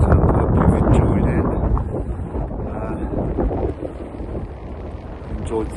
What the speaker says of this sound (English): the wind's taking my breath away